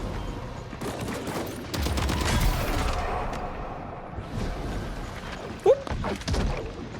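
A high explosive detonates amid rattling gunfire in the Death Stranding 2 video game, with a heavy, rumbling burst in the middle and scattered thuds and shots around it.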